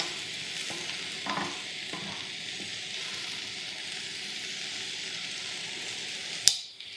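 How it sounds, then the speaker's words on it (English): Sloppy joes being stirred in a pan, the thick reduced sauce bubbling with a steady soft sizzle and a few scraping strokes of the utensil, closing with a sharp clank near the end; no one talks. "Let's give them a stir."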